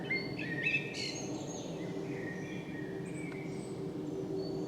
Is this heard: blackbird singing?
yes